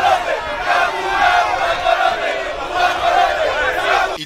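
A dense crowd packed into and around a stadium stand, waiting for an arrival, roars with a steady wash of shouting and chanting voices that swell and hold loud without a break.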